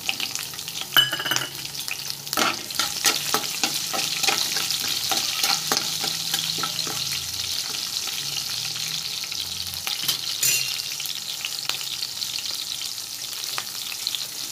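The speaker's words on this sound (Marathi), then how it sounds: "आता तेलामध्ये आपण जिरं घालून घेऊया। जिरं जरा भाजलं की मग मिरच्या घालूया।" Cumin seeds fry in hot oil for sabudana khichdi, a continuous crackling sizzle at moderate level. Occasional sharp clinks and scrapes of stirring break through it, and nobody speaks.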